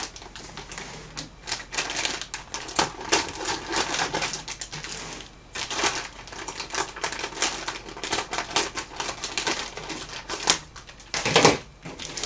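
Plastic reishi mushroom grow bag being cut straight across and all the way around, giving a close run of dense crinkling, snipping and rustling bursts that continue steadily with brief pauses.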